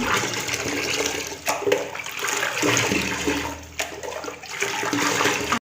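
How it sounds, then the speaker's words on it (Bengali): In a doll cartoon, clean water is poured for a bath, a continuous rushing splash that runs steadily for several seconds and then stops abruptly. "এবার আমি পরিষ্কার জল ঢেলে স্নান করে নিই"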